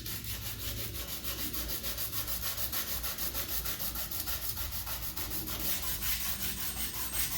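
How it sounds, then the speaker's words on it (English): Steady back-and-forth rubbing of 150 grit sandpaper on a wooden guitar neck, a continuous rhythmic scratchy hiss that carries on close and even the whole time with no voices. "I'm going to start with this 150 grit sandpaper"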